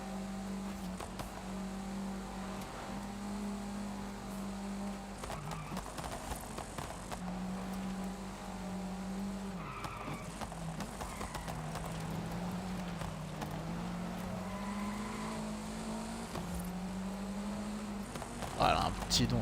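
A Peugeot 205 engine drones through a drive in the racing game Forza Horizon 5, with a steady low hum whose pitch rises and dips with shifts and throttle, heard continuously under background noise.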